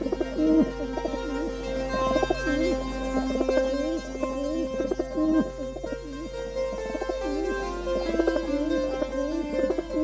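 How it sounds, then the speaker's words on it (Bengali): Five pigeons in cold weather coo in repeated soft, rolling phrases, fairly close and steady, over a constant low hum and sustained tonal background. "এই 5টি পায়রা এত ঠান্ডায় কি সুন্দর লাগছে"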